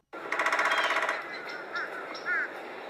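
A loud, rapid rolling churr of a red-bellied woodpecker, followed by a few shorter, quieter call notes, with no talking.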